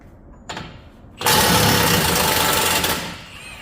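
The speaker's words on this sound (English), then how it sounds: "gonna zip off this nut, axle nut, the 35mm socket." An impact tool with a 35mm socket rattles loose the axle nut on a 2019 Ram 1500 Classic, a loud buzzing whir lasting under two seconds after a short faint lead-in, then tapering off.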